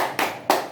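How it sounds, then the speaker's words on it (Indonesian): A group of women clapping the rhythmic 'tepuk hebat' clap in a classroom session, two loud, sharp bursts of claps close by, each fading briefly before the next. "mari kita sama-sama tepuk hebat"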